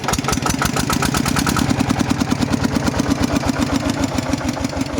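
A small single-cylinder engine of a used RT110 walk-behind tractor chugs loudly up close, its rapid regular thumps revving briefly then settling back to a steady beat.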